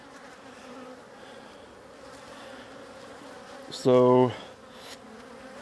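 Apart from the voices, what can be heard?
bees buzzing around a beehive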